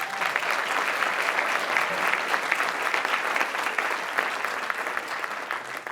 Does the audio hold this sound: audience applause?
yes